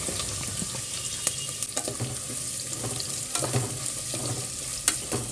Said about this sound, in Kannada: ಸ್ವಲ್ಪ ಎಣ್ಣೆ ಇದ್ಬಿಟ್ಟು ಸ್ಪೈಸಸ್ ಹಾಕಿ ಸ್ವಲ್ಪ ಫ್ರೈ ಮಾಡಿಕೊಂಡು ಆಮೇಲೆ ಸೋಂಪು ಹಾಕಿ ಮತ್ತು ಸ್ವಲ್ಪ ಈರುಳ್ಳಿ ಚಾಪ್ ಮಾಡಿ ಇಟ್ಕೊಳ್ಳೋದು ಹಾಕ್ಕೊಂಡು